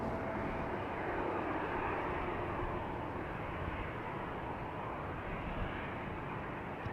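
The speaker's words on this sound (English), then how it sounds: "KLM 737 also going to Dublin, 737-800" A KLM Boeing 737-800 airliner, 22 years old, departs from Amsterdam Schiphol on runway 36L, the Polderbaan. Its engines give a steady, broad jet roar heard from a distance, with no voices over it.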